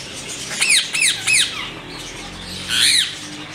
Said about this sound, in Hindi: येलो रिंग नेक का बहुत खूबसूरत पेयर